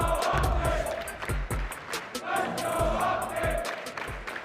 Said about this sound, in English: the crowd starts to get fired up for this map 4